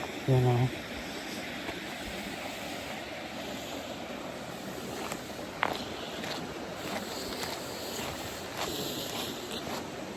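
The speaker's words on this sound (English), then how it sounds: "it's kind of windy today." Gusty wind buffets the microphone in a broad steady rumble outdoors, with a brief voice at the start and a faint knock midway.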